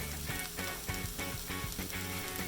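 Mushrooms cooking in a pan for breakfast tacos, a continuous soft sizzle with rhythmic clatter and scraping of stirring repeating every half second or so, close and moderately loud.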